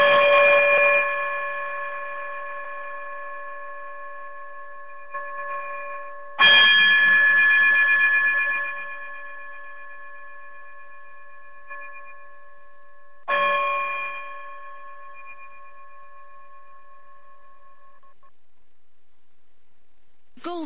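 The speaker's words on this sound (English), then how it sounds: "chime us out of here" Chimes close out a financial talk show, with three separate struck strikes that each ring out in long sustained tones and slowly decay. A short faint tap comes at the very end, and nobody speaks over them.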